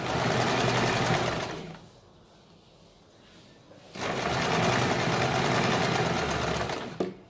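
A sewing machine stitches a suit in two long, loud, steady runs, stopping for a couple of seconds in between before starting again, with a brief click at the end.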